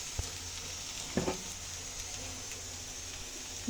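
Onions fry in a pan for a bottle gourd stir-fry, a faint, steady sizzle with a couple of soft knocks or stirs partway through.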